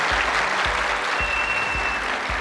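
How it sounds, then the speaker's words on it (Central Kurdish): Applause from an audience honouring top students at an institute in Sulaymaniyah: dense, steady clapping that fills the whole stretch at an even level, with no voices standing out. "بۆ چەپڵەیەک بۆ یەکەمەکان"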